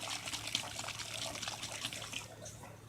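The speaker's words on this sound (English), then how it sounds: "Just use warm water when you're mixing these." Warm water trickles and splashes steadily while dark blue and yellow tie-dye colors are mixed, a close, continuous liquid sound with no talking.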